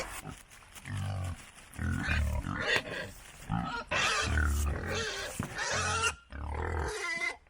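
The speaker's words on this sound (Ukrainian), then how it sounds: "Дика свиня переважно нічна і загалом всеїдна тварина." Wild boar grunt in repeated low, rough bursts, fairly loud and close, over several seconds during a park walk in Morshyn, Ukraine.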